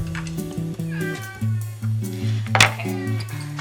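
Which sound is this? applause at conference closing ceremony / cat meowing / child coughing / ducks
cat meowing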